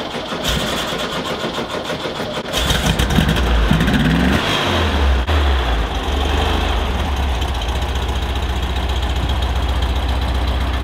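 A 1967 Volkswagen Beetle engine that sat unused for about 16 years runs loudly and close by, a steady buzzing idle that rises in a short rev partway through, then settles into a constant drone.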